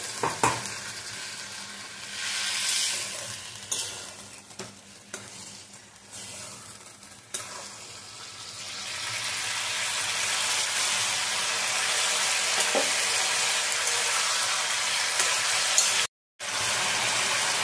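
Pointed gourd (potol) is stirred and fried in a pan with little oil. Clattering utensil knocks open a steady close sizzle that grows into a continuous loud hiss, then cuts off briefly near the end.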